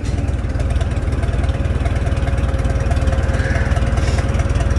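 A small engine idling steadily after being started with a little gas, a close, even, rapid chugging beat that holds without revving.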